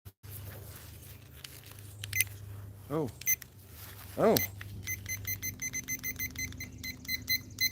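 Kitchen timer beeping in quick repeated electronic blips as its buttons are pressed, fairly close, with a short exclamation from a person and faint background hum.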